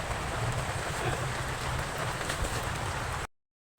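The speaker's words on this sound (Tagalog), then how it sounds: "Umuulan." Steady rain hissing across a broad wash of sound in a rice field, constant and fairly close, with a low rumble underneath, cutting off abruptly near the end.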